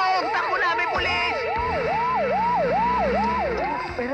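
A police siren wails loud and close in a comedy film scene, its rising and falling tone repeating steadily over a bed of background noise.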